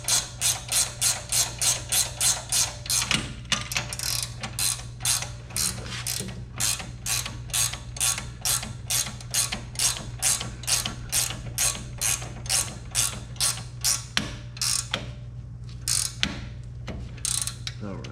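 A hand ratchet tightens the nut on a Jeep Wrangler JK ball joint eliminator, producing a steady, close train of rapid clicking strokes in regular bursts, with a low hum underneath and no talking.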